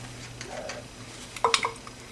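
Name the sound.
stirring condensed milk in a boiling pot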